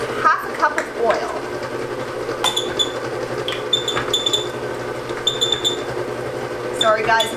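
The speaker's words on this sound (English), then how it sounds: "Sorry guys, my mixer needs a little bit of oil." Electric mixer that needs oil running in a home kitchen during muffin baking, a steady mechanical whir broken by intermittent squeaks and rattles, loud and continuous throughout.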